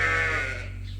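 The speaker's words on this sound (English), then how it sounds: "So I believe she's one of our comfort ewes." A sheep ewe gives a single close, loud bleat that fades out within a second. A low steady hum from the barn sits underneath.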